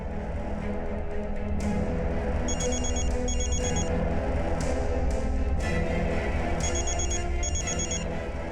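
A telephone rings in repeated short bursts, fairly clear over a steady background hum, with no one speaking.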